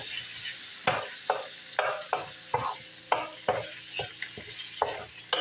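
Diced chicken breast frying in a pan for chicken fried rice, a close steady sizzle broken by repeated scraping stirs that come in a loose rhythm about every half second, with no talk.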